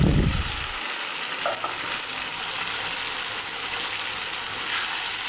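Potatoes with pangas fish head sauté in a pan, giving a dense, steady frying hiss after a brief low thump at the start, with no talking.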